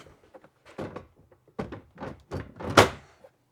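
Milwaukee PACKOUT tool storage cabinet door in a garage workshop, a series of close plastic clunks, rattles and latching knocks, ending in a firmer shut, with no talking.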